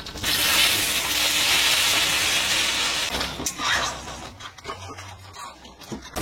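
Spices fry for a mutton curry with salt and Kashmiri chili powder, a loud, steady close sizzle that fades after a few seconds into scattered scraping and stirring noises.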